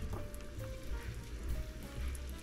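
Chopped onions and green peppers sizzle in a saucepan for American chop suey, a soft, steady crackling hiss with faint pops throughout.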